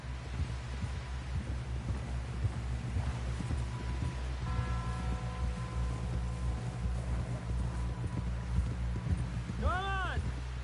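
Hooves drum in a quick, regular clip-clop as a horse gallops in Red Dead Redemption 2. The hoofbeats run steadily throughout under a low ambient bed, and a brief tonal cry rises near the end.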